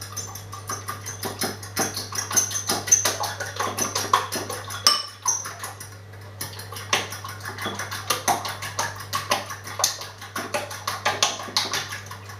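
Kitchen tap water runs steadily while egg is rinsed off hands, with splashing patter and a brief break midway, close and fairly loud with no talking.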